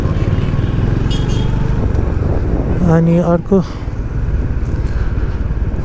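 A fuel-injected Honda H'ness CB350 with dual-channel ABS and traction control switched off is ridden along a road. Its steady engine drone is mixed with wind buffeting, and someone talks over it.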